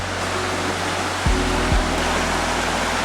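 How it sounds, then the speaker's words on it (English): A river flowing through Pakuratahi Forest, New Zealand, heard as a loud, steady rush of water close by. Two low thumps break in partway through, and no one speaks. "You can go down to the river right here."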